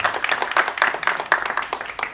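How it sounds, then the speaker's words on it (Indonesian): Audience applause at a public speech, a brief burst of clapping from a gathered crowd, fairly close with uneven rhythmic pulses. "Tepuk tangan."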